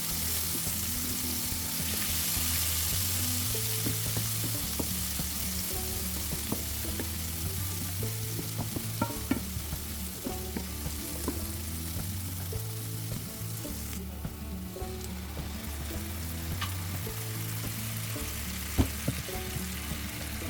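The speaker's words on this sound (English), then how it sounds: "Make sure the garlic is cooked" Plenty of fresh garlic, about ten cloves, fries in a pan with a steady, even sizzle that lasts throughout, close and moderately loud, with music playing quietly underneath.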